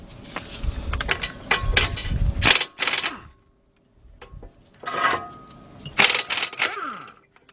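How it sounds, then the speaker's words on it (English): A 17mm socket on a ratchet loosens the brake bracket bolts on a 2007 Honda Accord, with bursts of fast, close clicking separated by a short silence and some metallic handling noise. "Let's get our 17mm. Got two bolts to hold that bracket on."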